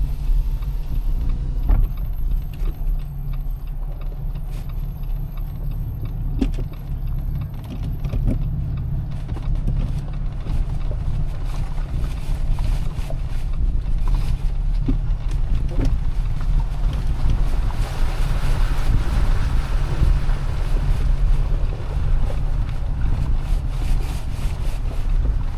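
A car rolls through a washed-out riverbed on the way back to the road, giving a continuous low rumble of tires and engine with wind buffeting the microphone and some knocks and rattles, and no talking.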